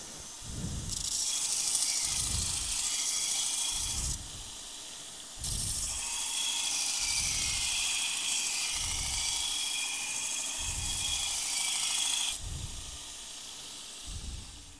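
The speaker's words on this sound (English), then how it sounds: "Go back to the spindle gouge, which I'm going to touch up real quick." A 3/8 inch spindle gouge is touched up on a grinder in a woodturning shop, a loud continuous grinding hiss broken by brief pauses over a steady low rhythmic pulse.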